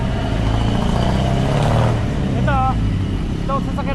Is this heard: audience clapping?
no